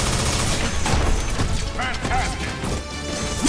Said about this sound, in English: Proton cannon!